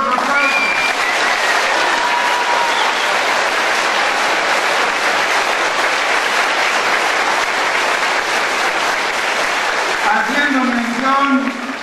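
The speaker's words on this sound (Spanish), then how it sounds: "a quien pido un fuerte y caluroso aplauso" A large crowd at a 2014 public event in Álamo gives Senator Héctor Yunes Landa loud, sustained applause, a thick continuous roar of clapping; voices come in briefly at the start and again at the end.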